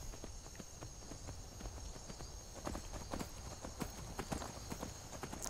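Horse hooves clip-clop steadily at a riding pace in the video game Skyrim, an even, fairly quiet rhythm of hoofbeats over faint background ambience.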